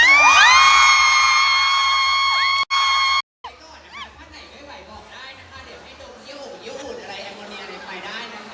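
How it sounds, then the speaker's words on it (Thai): A live audience at a novel launch event cheers, whoops and chatters excitedly after a few seconds of bright electronic chime tones, the crowd noise lively and sustained with voices mixed in. "ขออนุญาตค่ะเสียงปรบมือดังๆให้กับคุณจิติเรนค่ะ"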